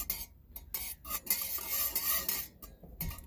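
A spoon stirs ghee (organic clarified butter) into a mug of coffee, a run of light metallic clinks and scrapes against the cup, fairly close and quiet, with no talking.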